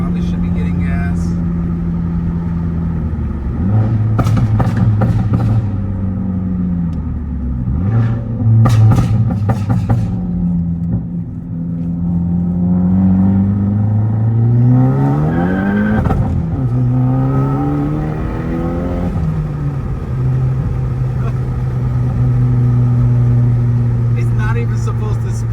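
Hyundai Elantra fitted with a single-exit titanium race exhaust accelerating hard through the gears, its engine note rising and dropping with each shift, loud and close with people talking over it.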